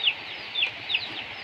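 A chicken clucking close by, three short, bright clucks spaced about a third of a second apart over a steady outdoor background hiss.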